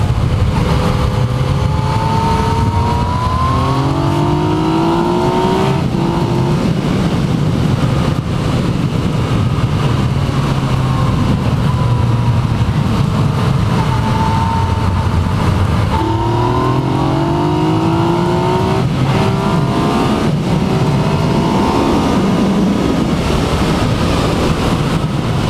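A 2018 Yamaha MT-09 motorcycle on an open road, its engine rising and falling through repeated accelerations and gear changes under steady wind rush, loud and continuous throughout.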